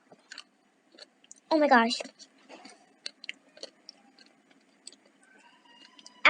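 Someone bites into a crunchy candy and chews it with sharp, close-up crunches. A brief exclamation comes through, followed by scattered clicks and smaller chewing sounds between quiet pauses.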